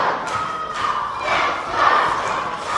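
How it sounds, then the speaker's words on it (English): Wrestling arena crowd roaring loudly and steadily during a tag-team match, a dense wall of voices with swelling shouts, though distinct Let's Go chant words are not clearly made out. "this crowd fully behind Ultima Sombra, a chance of Let's Go reverberating through the arena"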